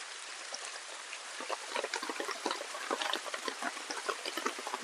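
Downpour beating on a tarp at a rain-soaked forest campsite: a continuous hiss of rain with sharper drip-like taps building through the middle, close and steady, with no voices.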